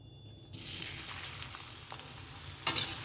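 Chopped onion goes into hot oil for a green-pea polao. A sudden sizzle jumps up and settles into a steady crackling fry, then a short louder scrape of stirring comes near the end.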